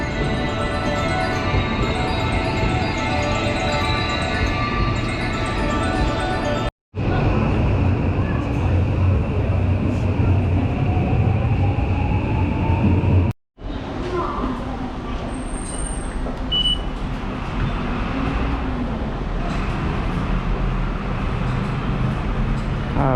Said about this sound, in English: we're gonna take the train to Fukushima station.